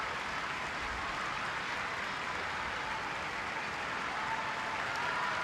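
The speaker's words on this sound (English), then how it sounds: "Hear the roar" A stadium crowd at an England v Australia international friendly football match gives a dense, steady roar mixed with clapping that fills the whole stretch, with no talk over it.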